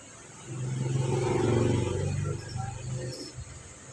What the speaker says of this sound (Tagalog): kung naririnig nyo, may mga motor kayong naririnig